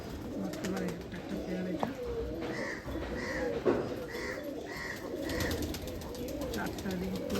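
Pigeons coo in soft repeated phrases close by, while someone talks over them throughout.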